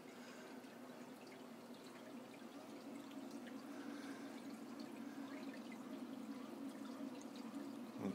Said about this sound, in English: Two MP10s, not MP40s, two MP10s are making this wave.